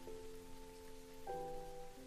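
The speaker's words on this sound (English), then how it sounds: "gradually, the sound of the rain grows and grows." Steady rain falls across a surface, a soft even hiss that slightly swells, mixed with gentle sustained tones of calm background music.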